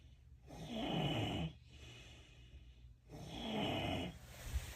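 Someone asleep snores in two long, rough inhaled rumbles with a quieter breathy gap between them, fairly close and alone.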